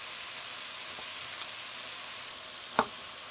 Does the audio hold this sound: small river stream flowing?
no